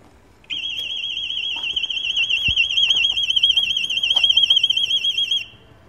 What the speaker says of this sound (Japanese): 今回の車両ですが、盗難防止アラーム付きとなります。